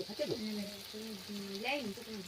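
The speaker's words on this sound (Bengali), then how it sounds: "আর এ পাশে দেখুন মাংসটা কত সুন্দর ফুটছে" Goat meat curry simmers in a pan with oil separating from the spice paste, giving a soft, steady bubbling and sizzling while a person talks over it.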